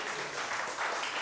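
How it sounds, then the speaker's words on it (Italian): A studio audience on a talk show gives the dance academy's dancers a short, steady round of applause, moderately loud with no voices over it. "Facciamo un applauso"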